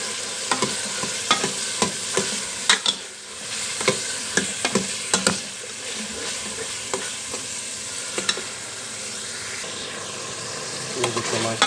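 Black chickpeas frying in a spiced masala, a steady close sizzle broken by repeated scraping clinks of a spoon stirring against the pan, with no voices.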